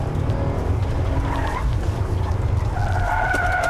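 A car skids across a skid pan in a driver-training setting, with loud continuous engine roar and rumbling tyres, and a drawn-out tyre squeal rising toward the end.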